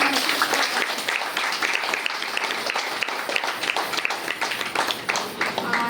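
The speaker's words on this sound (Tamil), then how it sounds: "அவங்களுக்கு ஒரு பெரிய கைத்தட்டல் நம்மளால" Audience applause at a baby shower ceremony for pregnant women, dense sustained clapping from many hands, fairly even in level for several seconds.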